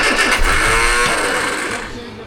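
An Austin Allegro engine catches on choke and revs loudly and roughly for a couple of seconds, then settles lower.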